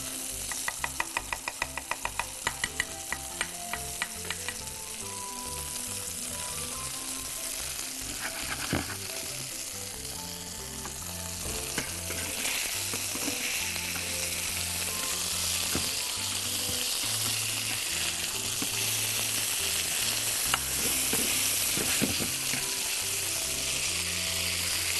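Oil and butter sizzle loudly in a frying pan with a steady crackling hiss, while occasional clinks of a utensil against the pan sound throughout; no one speaks.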